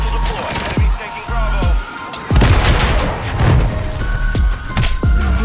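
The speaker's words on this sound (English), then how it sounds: "Friendly cruise missile deployed." Heavy booming explosions from friendly cruise missile strikes in Call of Duty: Modern Warfare III, several deep impacts spread across the moment amid gunfire and game noise, loud and close with no talk over them.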